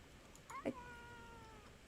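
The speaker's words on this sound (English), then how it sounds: "I didn't pet the kitty, but it meowed at me." A cat in the video game Bellwright gives one short meow followed by a longer, drawn-out mew, fairly faint over a quiet game background.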